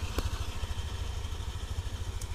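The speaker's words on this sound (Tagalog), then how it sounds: "Ito na yung mga motor namin." Several scooters, a Honda Click, an ADV, an NMAX and an Aerox, idle close by beside a highway with a low, steady, pulsing engine chug and a faint click or two. No one speaks.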